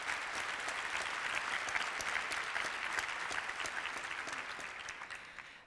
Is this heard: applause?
yes